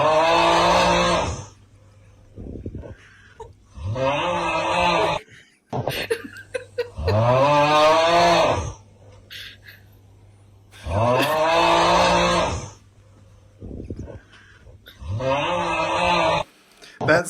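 Loud snoring in bursts of one to two seconds, about five deep rasping breaths separated by quiet gaps, close and alone with no talking.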